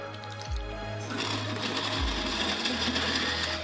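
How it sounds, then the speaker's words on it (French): Blender pureeing a creamy ham preparation with white wine, a loud, close motor whir that starts and stops twice, then settles into a steady churning roar. "Ensuite, je vais la mixer."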